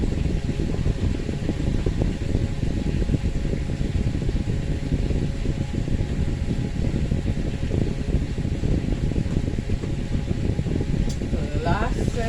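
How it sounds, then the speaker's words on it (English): Electric fan blowing steadily in a hot summer kitchen during a fried chicken cook, a constant broadband whoosh running throughout at even loudness, with a faint brief tone near the end. "That's the fan blowing."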